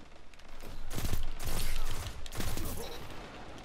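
Machine gun fire in Destiny 2 during an Iron Banner match, loud sustained bursts with a brief pause in the middle, thick with overlapping shots.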